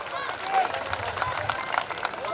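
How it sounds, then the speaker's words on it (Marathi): Clapping from a crowd at an outdoor wrestling ground during a village fair bout, a dense, brisk patter of hands with murmured crowd voices beneath it. "टाळ्या वाजवतोय, तुम्ही हाताने वाजवा म्हणतोय."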